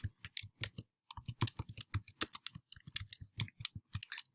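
Rapid keystrokes on a computer keyboard, close and crisp, come in quick uneven bursts with short pauses between words, the clicks standing alone with no talk.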